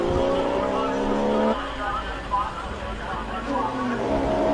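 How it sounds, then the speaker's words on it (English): A Porsche GT3 racing up the Simola hill climb: a loud, harmonic engine wail that climbs through the revs for over a second, then drops to a rougher, lower note before building again, close by. "Phenomenal noise from this Porsche GT3."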